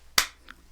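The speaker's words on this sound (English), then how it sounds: "then there's your clap sync" A single sharp hand clap used to sync audio, crisp and close, followed by a fainter small click a moment later in an otherwise quiet room.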